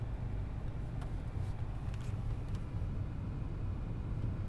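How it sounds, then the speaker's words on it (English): Cars pass along a wooded road, Clinton Road in New Jersey, heard as a steady low rumble of engines and tire roar from inside a moving vehicle, with no clear individual pass-bys. "Couple of cars."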